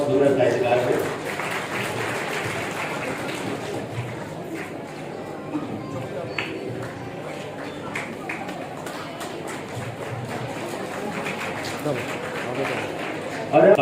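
Steady clapping from an audience at a Hindi poetry and literary event, a continuous moderate patter with some talk blended in and a brief louder burst at the close.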